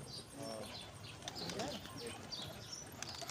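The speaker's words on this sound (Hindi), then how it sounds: "बहुत ही बेहतरीन कबूतर" Pigeons coo softly on a Lucknow rooftop among fancy pigeons, with faint chirps over steady background noise and someone talking throughout.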